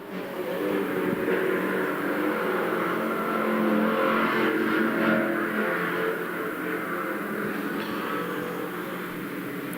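Race cars lapping a drying track during a qualifying session, a continuous engine drone that swells and fades as cars pass at a moderate distance, with no voices.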